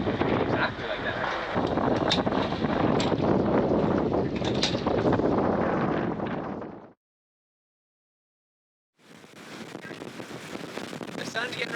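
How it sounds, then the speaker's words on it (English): Sailboat under way in steady wind, a loud continuous rush of wind buffeting the microphone with water wash, cutting out for about two seconds before resuming. "Okay, we're sailing."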